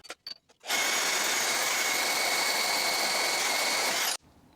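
Power tool cutting through bolts on a bagged mini truck build, a steady loud whine running about three and a half seconds after a few short starts, then stopping abruptly.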